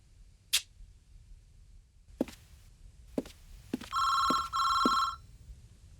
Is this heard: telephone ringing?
yes